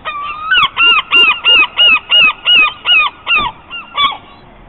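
Seagulls being fed chips near Arran call loudly and close by, giving about ten harsh, evenly spaced squawks in quick succession.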